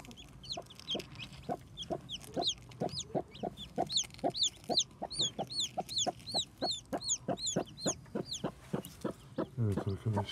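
A newly hatched chick peeps in rapid, high, repeated calls while nearby chickens cluck in a steady stream of short, regular notes, all close and fairly loud against a quiet farm background.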